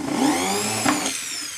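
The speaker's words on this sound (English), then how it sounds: "So put the drill in the punch mark" A drill boring a hole through a thin, punch-marked metal earring, giving a steady high whining buzz that holds for over a second and then trails off, close and fairly loud.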